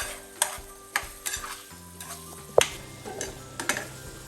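Kofta balls get turned in a spiced curry gravy with light, intermittent taps and scrapes of a spoon against the pan over a faint, quiet simmer.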